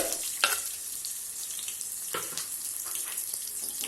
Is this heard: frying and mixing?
yes